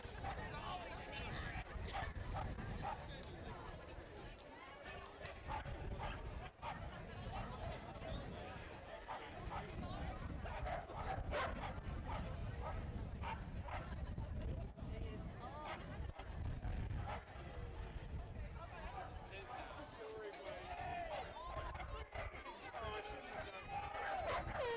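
Corgis racing at the Fort Erie dog races, with scattered barks and scampering under a constant crowd hubbub and an announcer talking throughout.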